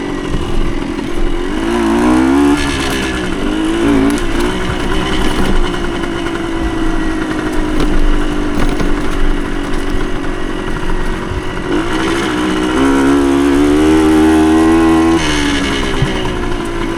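A small 1975 Suzuki TS125 dirt bike engine runs loud and close on trails, revving up and down repeatedly with a buzzing, rising and falling pitch.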